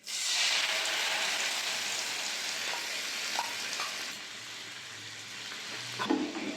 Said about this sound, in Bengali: জিরে, কুচনো রসুন, যে মশলাটা বেটে রেখে দিয়েছিলাম দিয়ে দেবো তেলের মধ্যে।